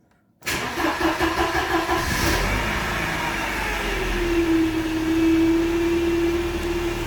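A cold Mercedes engine with K-Jetronic fuel injection cranks and catches right away, then settles into a steady, loud idle with a low hum that holds for several seconds.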